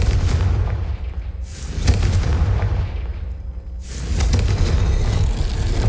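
A Confringo fire spell blasts in Hogwarts Legacy, giving deep booming explosions and rolling rumbles with whooshing swells, loud and sustained across several seconds.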